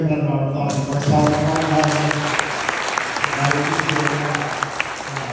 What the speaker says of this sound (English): Let's give him another round of applause for ourselves.